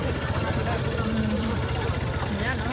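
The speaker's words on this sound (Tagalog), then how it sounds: "Ang traffic, punong-puno ng motor." Motorcycle-packed traffic on a road during a rice distribution in Gapan, Nueva Ecija: a continuous low idling engine drone from many nearby motors, steady and enveloping, with people talking briefly over it.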